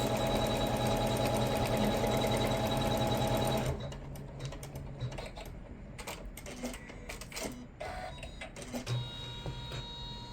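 An embroidery machine stitches down the bottom of a bag lining on an in-the-hoop box bag, first a loud dense whirring run, then a quieter stretch of rapid clattering stitches and short bursts close by.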